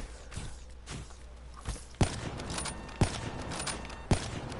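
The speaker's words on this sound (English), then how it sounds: "Why are you shooting at me? I'm not. I'm shooting beside you." Sharp video game gunshots, several spaced cracks roughly a second apart with one louder shot near the end, set over a low background rumble and bustle in a sniper trickshot match.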